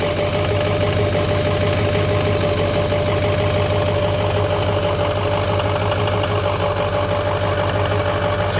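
A Ford Excursion with a suspected heater core or coolant leak idles steadily close by, its engine producing a constant low rumble with a fine ticking texture and no talk over it.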